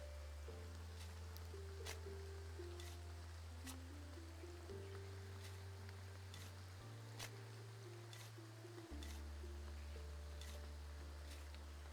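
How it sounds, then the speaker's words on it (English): Steady rain ambience from the video game Graveyard Keeper hisses evenly throughout, layered over a low sustained musical drone that shifts pitch every few seconds, with faint tinkling notes and no talking. "hopefully you like rain."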